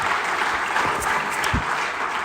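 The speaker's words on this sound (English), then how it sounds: "Can we have one more round of applause for Tanya, please?" At a state legislator's community State of the State address, an audience gives a round of applause: full, steady clapping from a roomful of people, close and sustained, with a few sharper individual claps standing out.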